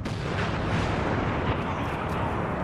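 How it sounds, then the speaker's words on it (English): A thermal detonator explodes in Star Wars Battlefront, a loud sustained rumbling blast filling the whole moment with dense noise, a voice partly audible over it. "Let me throw a thermal explosion."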